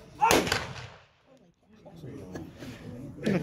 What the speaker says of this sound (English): And now he'll give you a demonstration of the 8mm Mauser.